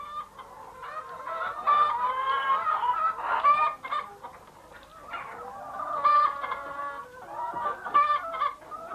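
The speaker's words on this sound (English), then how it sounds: "We've got 400 hens, laying birds" Flock of 400 laying hens on a farm, clucking steadily and overlapping in a busy, close chorus of bird calls with no talking.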